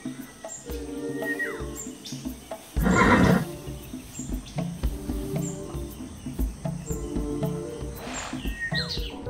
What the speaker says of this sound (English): Oh, wow! It's a horse!